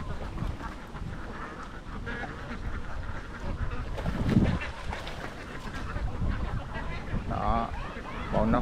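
A large flock of domestic ducks, part of a farm of over 2000 birds, quacks continuously and noisily while being herded home, a dense overlapping chatter of many birds close by, with a voice occasionally heard beneath.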